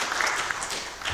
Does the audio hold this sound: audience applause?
yes